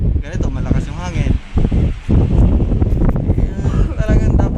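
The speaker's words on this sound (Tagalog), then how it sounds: "malakas yung hangin" Strong wind buffets the microphone outdoors in loud, continuous low rumbling gusts, while people talk throughout.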